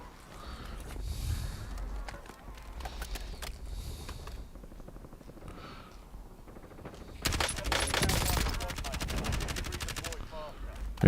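Call of Duty Warzone gunfire is heard, with scattered sniper shots and then a dense automatic burst, set against low game noise and the sounds of a zombie match.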